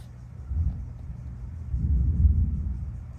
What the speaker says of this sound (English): Yeah, giant booms. Maybe it's heat lightning?